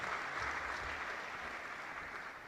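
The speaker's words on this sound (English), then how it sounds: "Please give him a round of applause" Steady, full applause from the crowd at a company's end-of-year staff retreat and awards ceremony, continuing evenly throughout without letup.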